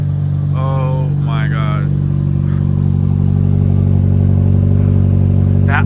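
A car's engine idles steadily on a cold day, a loud, continuous low rumble that runs through the whole stretch while a man exclaims excitedly over it.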